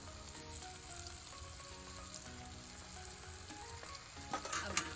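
Veg Manchurian balls dropped one by one into hot oil on a high flame, a continuous crackling sizzle with small pops and some clatter growing busier toward the end.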